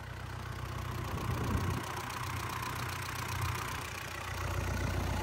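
An original Isuzu 4KH1 diesel engine idles close by with a steady, even low rumble and a faint rhythmic clatter. The sound is smooth and unbroken, with no other sounds over it.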